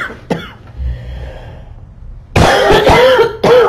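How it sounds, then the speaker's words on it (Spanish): A person coughs in short, harsh bursts: one sharp cough early on, then a louder cluster of throaty coughs with a raspy clearing of the throat, close to the listener. "ya está haciéndome toser"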